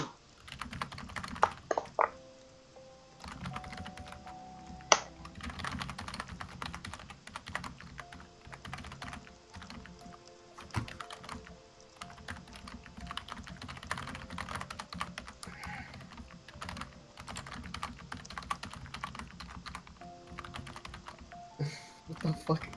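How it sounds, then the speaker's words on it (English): Fast, furious typing on a computer keyboard, dense rapid key clatter running throughout at close range, with people talking and laughing over it during a tabletop role-playing game session. "Furious typing."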